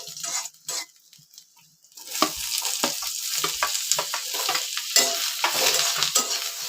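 Ingredients dry-roasting in a pan for puran poli and kat amti, with a steady close sizzle and repeated scraping stirs that begin after a short quieter opening.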